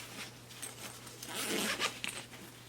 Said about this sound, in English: when they updated the bag, you'll see that it's going to unzip